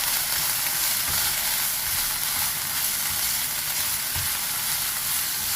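Chopped onion frying in a pan, a steady dense sizzle with soft crackles running continuously at close range, no voices over it.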